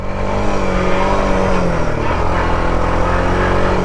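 A 1984 Honda Trail 110 motorcycle engine revs hard and steadily in low range gears on flat ground, a loud, close, continuous buzzing drone that climbs in pitch, with no talk over it.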